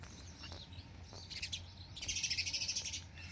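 Birds chirp and tweet in the early morning, quiet bursts of call followed by a rapid run of repeated bright notes, somewhat distant over a low background hum.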